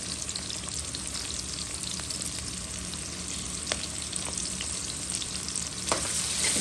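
Onions and green chillies fry in hot oil with a loud, dense, continuous sizzle and crackle, with occasional faint stirring taps over the steady hiss.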